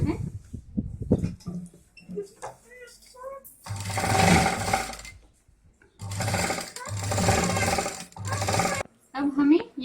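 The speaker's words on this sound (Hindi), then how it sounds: "तो वो जिप को हमें ऐसे रख के यहाँ पे स्टिच कर देना है।" A sewing machine stitches a zip onto a homemade travel bag in several loud, whirring bursts of rapid stitching. A person speaks in Hindi at the start, between the bursts and at the end.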